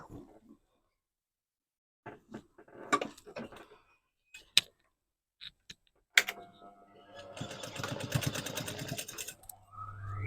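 A sewing machine stitches along tasseled shorts, starting with scattered short clicks and taps, then running into a fast, continuous rattling stitch toward the end, close and moderately loud.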